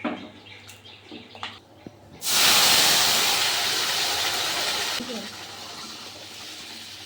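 Pulao with cashews, raisins and ghee is stirred in a pot, giving a sudden loud sizzling hiss that holds for a few seconds and then eases to a softer steady fry.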